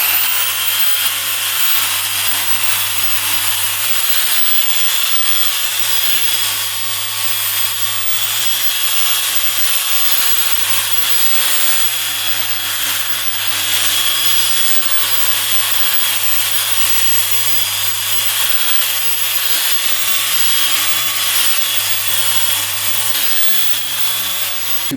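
A power buffer with polishing compound works over the rusty, pitted fuel tank of a 1975 two-stroke triple motorcycle, producing a loud, unbroken whirring hum with steady rubbing hiss for the whole stretch.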